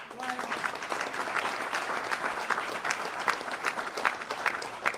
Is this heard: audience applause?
yes